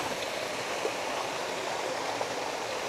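Mahiwaga Falls in Amadeo/Trece Martires, Cavite pours as a steady, soft broadband rush of falling water, continuous and even with no voices.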